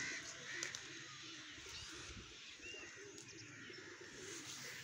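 Pigeons coo softly amid steady outdoor ambience, with a few faint chirps scattered through the background.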